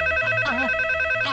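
A telephone rings in a dramatic film scene, with a bright electronic ring pattern that repeats in quick bursts, clear and close, with no talking.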